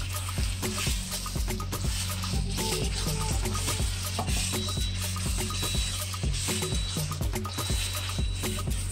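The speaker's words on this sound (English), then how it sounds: "So at this point in time, still frying." Chicken sizzles steadily in a hot pan, close up, with occasional scraping and clinking of a utensil stirring through it.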